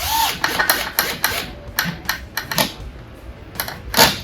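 A power drill driver whirs in short bursts, then its clutch clicks and ratchets in quick sharp taps as the screw seats, close by.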